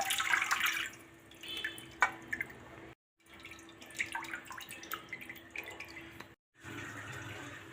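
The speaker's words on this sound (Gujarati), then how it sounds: "તો આ રીતે 2-3 પાણી આપણે ધોઈ લેવાનું." Water splashing and dripping in a basin as leafy greens are swished and rinsed, soft and close, with brief pauses between bursts.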